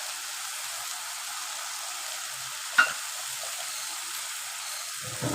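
Chicken cooking in a pan hisses with a soft, steady sizzle after a splash of ginger-garlic water goes in, with a brief sharper crackle midway and a stirring scrape near the end.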